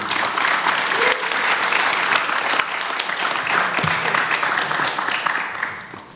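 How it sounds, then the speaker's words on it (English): Sustained loud applause from a large crowd, steady clapping throughout that begins to fade in the final second. "If you could welcome these folks with a round of applause, that would be amazing"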